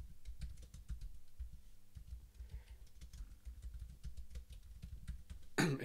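Fingers type steadily on a computer keyboard, with quick irregular key clicks close by in a quiet room and a louder clatter at the very end.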